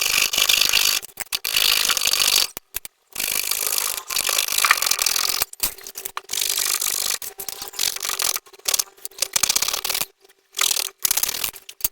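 Pieces for a homemade LED jhalar light are cut in short bursts, a rough rasping, grinding cut that starts and stops repeatedly with brief silent gaps between strokes, close and fairly loud.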